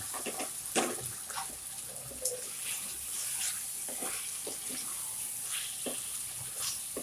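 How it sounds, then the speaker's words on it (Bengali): Meat being stir-fried in a pan for a pre-dawn meal, with a soft, faint sizzle broken by intermittent scraping stirs and light clatter, close up and without talking. "এটা ভালো করে কষে নিই"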